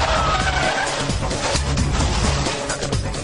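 A Toyota Aygo city car skids across a surface while playing car football, giving a steady loud tyre scrub and engine roar with a brief squeal near the start.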